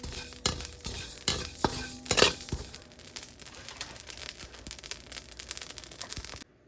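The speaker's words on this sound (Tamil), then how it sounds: "அதுக்கேற்ற பொருள்லாம் இப்போ வறுத்து கொண்டு இருக்கிறேன்." Spices and lentils for sambar powder are dry-roasted and stirred in a pan, giving close scraping and rattling of seeds against metal in irregular strokes with faint crackle, and no talking.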